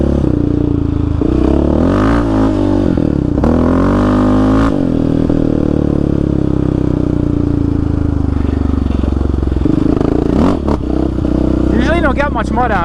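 A Yamaha Raptor 700 ATV churns through a muddy Arizona desert wash, its engine loud and close throughout, rising and falling as the throttle changes, with scraping clatter over the roar.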